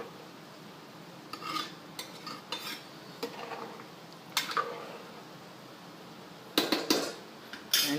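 Rice being mixed in a pot for Hyderabadi paneer biryani: quiet, scattered clinks and scrapes of a spoon against the pot, some in quick clusters, over a faint steady background with no talk.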